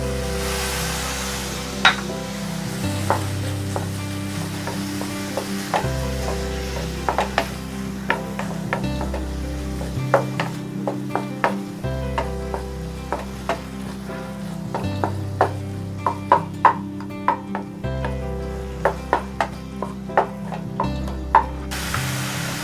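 Tomatoes fry in a pan for a small round potato fry, giving a steady loud sizzle with rhythmic scraping and clicking of a spatula stirring, continuous and close with no talk.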